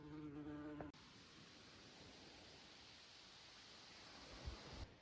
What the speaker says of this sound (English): a huge bee in the window again